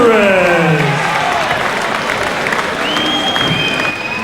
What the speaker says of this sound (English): The crowd doesn't like the score.